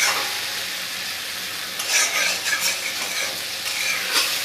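Potato and kohlrabi stir-fried in hot oil with homemade spices, a loud continuous sizzle overlaid by rhythmic scraping of a spatula stirring the pan.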